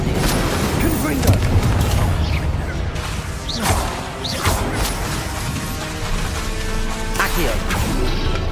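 Spell-casting blasts in the video game Hogwarts Legacy: continuous loud crashes, booms and whooshes layered over a busy game soundtrack, with occasional sharp impacts.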